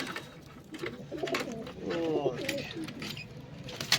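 Pigeons coo in soft, low, throaty bursts against a steady background murmur, the calls swelling in the middle of the clip.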